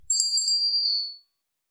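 A single bright bell ding, like a notification chime, rings out clearly and alone, its tone ringing on and fading out after about a second, followed by silence.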